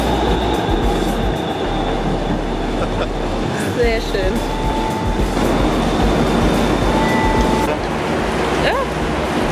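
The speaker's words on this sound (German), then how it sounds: "da fährt einfach die Straßenbahn drüber" A tram rolls over a downtown Houston street with a low rumble and clatter, and faint wheel squeals ring out. People talk over the passing rail noise.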